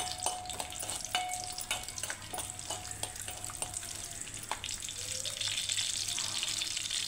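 Cumin seeds and garlic fry in hot oil for an Andhra-style egg curry, giving a steady close sizzle with light clinks and stirring throughout and no talk.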